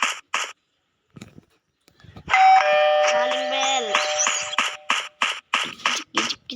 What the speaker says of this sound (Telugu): calling bell